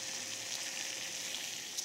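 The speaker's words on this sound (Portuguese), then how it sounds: "Vamos a água, já tá fervendo." Water boiling in a pot, a steady bubbling hiss with faint crackle, close and continuous, no voices.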